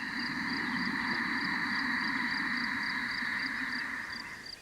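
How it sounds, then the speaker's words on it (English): A slow, steady ujjayi breath through a constricted throat with a soft hissing, throaty rasp, sustained evenly for several seconds and fading at the end. "The breath becomes audible, like a gentle whisper in the back of the throat"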